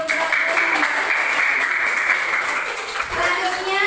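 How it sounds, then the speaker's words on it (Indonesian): Classroom applause for a student group during a literacy training session, a dense, steady burst of clapping lasting several seconds with a voice speaking over it. "tepuk tangan untuk"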